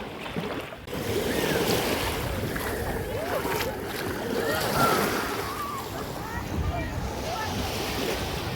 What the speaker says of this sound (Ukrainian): Ось таке море.